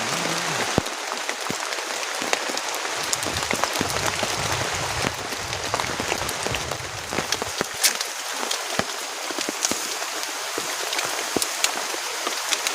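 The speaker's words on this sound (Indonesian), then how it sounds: "dari siang sore sampai malam juga sekarang masih hujan" Heavy rain falls steadily at a campsite during a thunderstorm with strong wind, a loud, dense hiss of drops beating on a tent that lasts throughout, with no talking.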